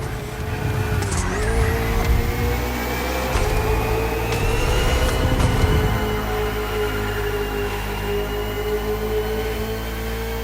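A KTM RC16 and a Ferrari 488 GT3 race on a circuit in The Crew Motorfest, engines droning steadily with a rising whine as they accelerate, a sustained loud roar with brief shifts and tire noise, no voices.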